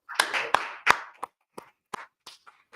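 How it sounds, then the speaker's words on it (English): A handful of hand claps ring out in a sparse, uneven sequence, a few sharp close claps followed by softer, slower ones that trail off, with no talking. "Clap it up, Akim."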